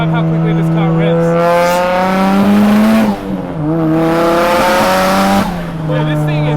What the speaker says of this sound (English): I can't even describe how quickly this car revs.